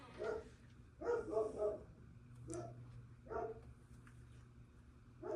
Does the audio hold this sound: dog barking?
yes